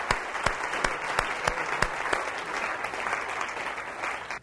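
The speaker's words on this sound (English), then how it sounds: "we have to give you a big round of applause" An audience at a business talk applauding steadily, with dense overlapping claps and a few sharper individual claps standing out early, fading slightly toward the end.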